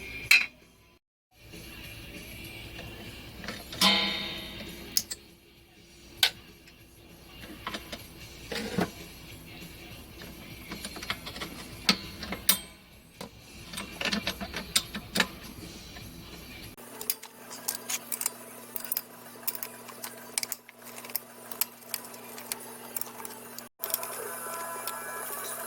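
A seized, bent trolley jack being disassembled, with scattered metallic clinks, taps and rattles of parts and tools, interrupted by a sharp click and a pause, then a steadier low hum under further light clattering.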